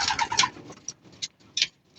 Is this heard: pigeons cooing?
yes